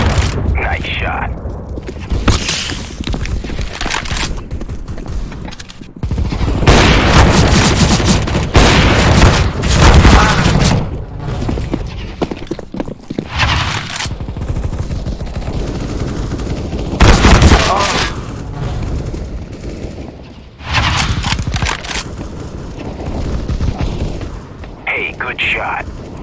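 Loud, repeated gunfire bursts and booming shots ring out in a CS:GO team deathmatch on the Vertigo map, coming in dense rapid volleys with short gaps, and voices talk over parts of it.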